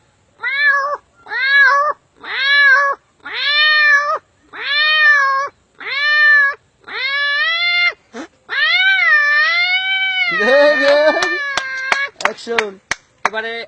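A human voice imitates cats fighting, producing a series of about seven loud, drawn-out yowls in a steady rhythm, then a longer rising and falling howl and a burst of harsh spitting snarls to finish.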